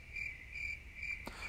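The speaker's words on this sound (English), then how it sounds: "crickets." Crickets chirp in a faint, steady rhythm, a few evenly spaced high trills against a quiet background.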